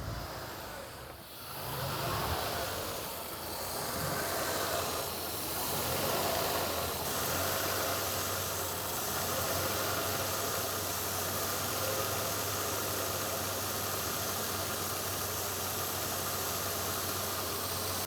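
A 1991 Mercedes S124 300TE 24V engine runs steadily at idle after a fuel mixture adjustment. Its low hum and hiss stay nearly constant, heard close up with no talking.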